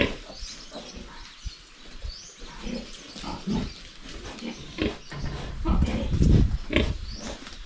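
Newborn Danbred piglets on a farm, a jumble of squeals and grunts that swell louder toward the end, with birds chirping in the background.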